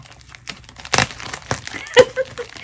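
Plastic crinkles and rustles in short bursts as scissors cut open a plastic bag, with a few sharp snips or tearing sounds close by and no talking.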